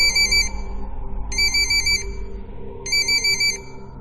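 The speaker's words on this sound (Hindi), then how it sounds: "तभी उस शांति को भंग करते हुए पुष्कर का फोन बजा।" A phone rings with a bright electronic ringtone in three short repeated bursts, evenly spaced, clear over a quiet low background hum with no talking.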